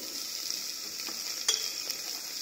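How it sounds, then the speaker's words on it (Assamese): Tomatoes fry in a pan for chicken biryani, giving a continuous bright sizzling hiss with a few soft stirring clicks and one sharper clatter near the middle. "বিলাহীখিনিও অলপ সময় ভাজি ল'ম"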